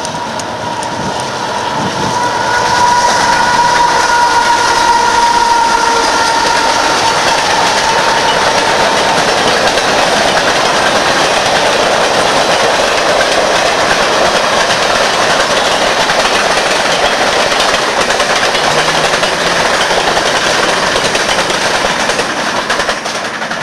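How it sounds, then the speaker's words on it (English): The Canadian Pacific Holiday Train passes through Cobleskill, New York in 2006, a loud, steady rolling rumble with wheel clatter that holds evenly from start to finish, with no voices. "CP Holiday train leaving Cobleskill,"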